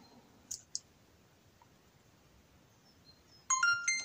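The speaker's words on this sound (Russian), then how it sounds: "С ощущаемым щелчком она включается, это точно." Two sharp, close clicks from the power button of an Insta360 Ace Pro action camera, followed moments later by a short bright electronic start-up chime as the camera powers on.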